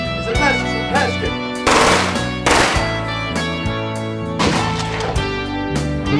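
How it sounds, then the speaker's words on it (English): Bursts of gunfire crack out in a tense mob film scene, with a few loud clustered volleys punctuating a dense layer of dramatic music and effects over several seconds. "He starts shooting his gun."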